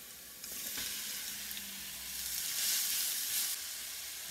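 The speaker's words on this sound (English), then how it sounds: "Fry it lightly." Carrot and broccoli frying lightly in a pan, a steady close sizzle that swells toward the middle and stays loud and continuous throughout.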